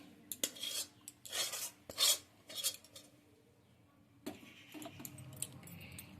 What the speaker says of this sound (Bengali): এবার থালার মধ্যে কড়াই থেকে সুজির এই মন্ডটা নামিয়ে দিচ্ছি